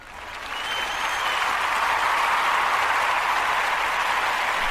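A podcast applause sound effect, with a crowd clapping and cheering that swells quickly and then holds at a dense, even level throughout.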